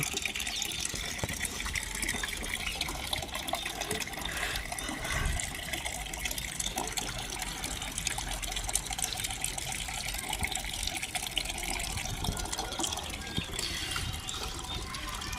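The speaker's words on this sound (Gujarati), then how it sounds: "પાઇપથી પાણી આવીશ પાણી ભરાય છે" Water gushes steadily from a pipe into a container, a continuous loud rushing splash that holds without pause throughout.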